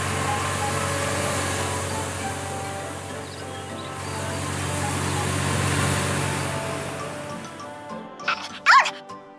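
A cartoon puppy in an animated show about helper vehicles, with an electric car's broken battery, gives a few short yips and barks near the end, after a stretch of engine-like hum and background music.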